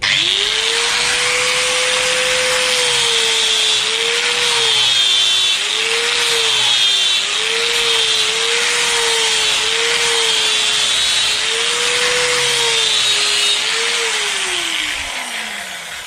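A steady, continuous whine with a slightly wavering pitch runs unbroken as wood is sanded with a sandpaper holder, loud and close, then tapers off at the end.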